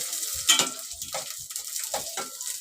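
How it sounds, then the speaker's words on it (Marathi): Garlic dropped into a hot pan for shepu (dill) bhaji gives a soft hiss broken by a few quick spoon scrapes and taps, close and moderately loud, with no voices. "बघा लसूण टाकते पहिला"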